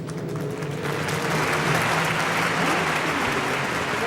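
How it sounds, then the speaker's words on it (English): A grandstand crowd claps steadily for the winner at a USAC/CRA sprint car race night, broad continuous applause heard from a distance with a low rumble underneath. "Nice round of applause for your winner and brand new champion"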